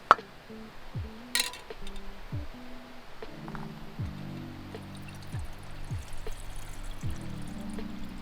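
Water pours into a freeze-dried beef stroganoff pouch at a bikepacking overnight camp, a steady trickle with light clinks of a pot, close and fairly quiet with no talk.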